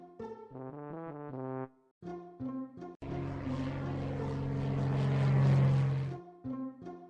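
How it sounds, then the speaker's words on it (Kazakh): A propeller airplane engine drones loudly and steadily for a few seconds, swelling in pitch and volume, between short bursts of tonal, voice-like sounds before and after. "ұшақ,"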